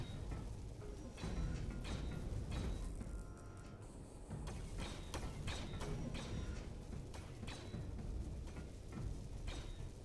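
A welding tool in the Space Engineers video game gives off a dense, continuous mechanical whirring and grinding with faint rhythmic clicks, steady and moderately loud throughout.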